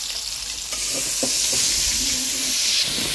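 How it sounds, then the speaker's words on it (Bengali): Tilapia fish frying in oil in a pan, a steady close sizzle and hiss with occasional stirring scrapes and bubbling pops throughout. "এখন হালকা করে একটু ভেজে নিচ্ছিল তেলাপিয়া মাছ"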